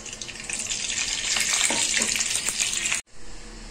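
Five spoons of hot mustard oil sizzling loudly and steadily in a kadhai before spices go in, a close, continuous hiss that cuts off abruptly near the end.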